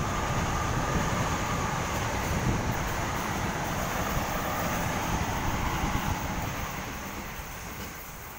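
A shiny Sydney Tangara suburban train passes at Petersham, a loud, continuous rush of wheels and motors with a steady high whine, fading slightly toward the end, no voices.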